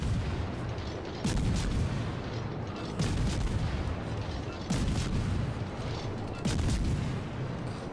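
Repeated booming naval gunfire from the Friesland destroyer in World of Warships, heavy salvos roughly every one and a half seconds over a constant rumbling battle backdrop, loud and close.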